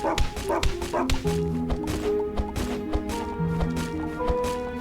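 A dog enemy in the video game Never Grave: The Witch and The Curse, giving repeated yipping barks over sustained game music and effects.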